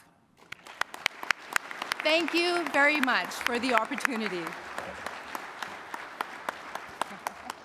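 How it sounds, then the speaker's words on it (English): Audience applause at a ceremony honouring women's success, dense and steady throughout with sharper individual claps standing out, while someone speaks a short line of thanks over it near the start. "You all deserve a round of applause"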